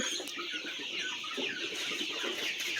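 Sonali breed chickens cluck and murmur close by in a continuous, busy chatter, with several birds overlapping at moderate volume.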